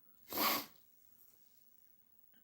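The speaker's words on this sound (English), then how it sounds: "As soon as I go live, I have a sneezing fit." A single sharp sneeze, close and fairly loud, followed by quiet breathing and a faint rustle near the end.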